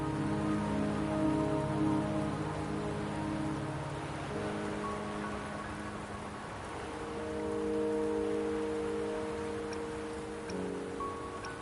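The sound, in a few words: rain falling in video game Wuthering Waves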